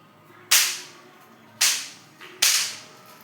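Three firecrackers burst one after another, each a sharp, loud crack with a short echoing tail, spaced about a second apart against a quiet background.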